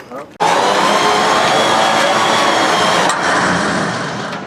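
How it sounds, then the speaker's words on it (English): A winch drags a heavy generator load with a loud, continuous mechanical whine and grinding hum that starts abruptly and holds steady for several seconds, easing off slightly toward the end. "gonna hook his winch up and drag it"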